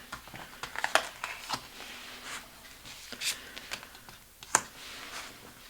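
Cards are shuffled and handled for a tarot reading, soft close flicks and light slaps scattered irregularly at low volume, with no speech over them.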